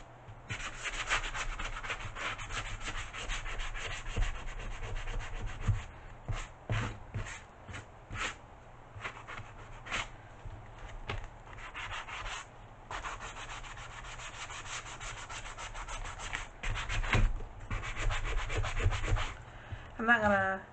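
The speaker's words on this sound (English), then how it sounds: "I'm just going to take my sanding sponge" A sanding sponge rubs across a painted Dollar Tree laundry room sign in repeated close, quiet strokes, with brief pauses between bursts of scratchy friction.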